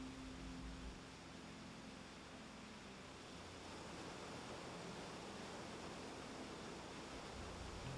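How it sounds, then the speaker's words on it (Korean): Monggye Falls on Baegam mountain near Baegyangsa temple pours in a steady, dense rush of falling water, a constant even roar without voices. "몽계폭포."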